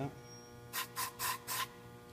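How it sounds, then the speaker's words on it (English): Silicone spray is sprayed into a cam-lock electrical connector: four short hissing bursts in an even rhythm, close and fairly loud over a faint background hum. "the silicone spray to get it nice and lubed up, so that way it slips over nice and easily"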